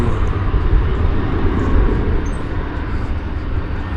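Airliner departing DFW Airport on the flight to El Paso, a loud continuous low rumble of jet engines that holds steady throughout with no talking.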